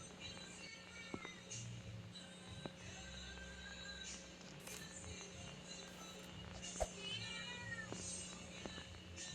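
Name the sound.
cat meowing in video game DreadBurger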